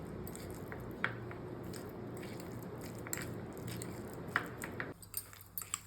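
Mashed avocado and lemon juice are stirred together in a bowl, giving soft, wet squishing and light scraping, with occasional sharper clicks of a utensil against the dish, close and quiet.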